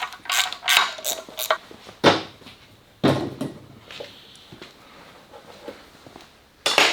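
Metal tools clanking and scraping while the valley pan is pried off a 1968 Pontiac 400 engine, with a few sharp knocks and ratcheting bursts separated by quiet gaps, close and moderately loud.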